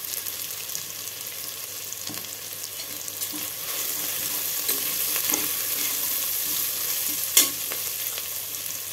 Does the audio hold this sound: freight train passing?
no